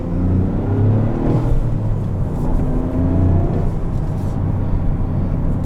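2023 Toyota GR Corolla setting off and accelerating, a steady loud engine rumble heard from inside the cabin with a faint rising whine, continuous with no talk.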